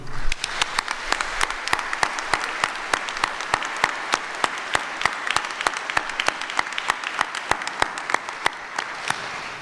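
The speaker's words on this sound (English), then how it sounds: "with a round of applause for all that they have done for you" Steady applause from an audience at an honors convocation, sharp individual claps in a fairly regular rhythm through the whole stretch at moderate loudness, with no talking.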